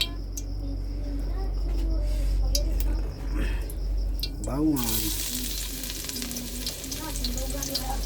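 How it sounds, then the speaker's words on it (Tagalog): Garlic drops into a hot oiled pan, and a loud, close sizzle bursts in about halfway through, then keeps hissing steadily. A person talks over the quieter pan noise before it. "ilagay na natin yung bawang"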